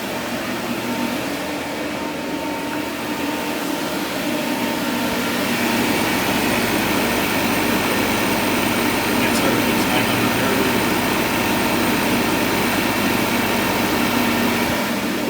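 A torch burns steadily while a technician opens the sealed refrigerant system of an Arctic Air two-door freezer, giving a loud, continuous roaring hiss that grows stronger after a few seconds and holds without a break.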